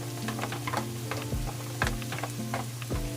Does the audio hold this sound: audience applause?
no